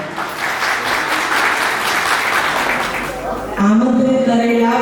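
Audience applause at a retirement function, dense steady clapping filling most of the moment before a voice starts speaking near the end.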